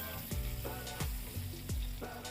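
Potatoes and pointed gourd fry in hot oil for a vegetarian korma, a steady close sizzle broken by a few rhythmic scraping stirs of a spatula through the pan, with no talking.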